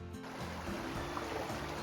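A river in a secluded spot pours over rocks, giving a steady, close rushing wash with no voices.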